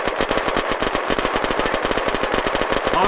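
Rapid automatic gunfire in a roleplay shooter video game, a loud dense stream of evenly spaced shots rattling continuously.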